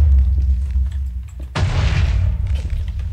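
A massive explosion in the video game Minecraft booms loudly halfway through, a sudden broadband blast that lingers for about a second over low background game sound.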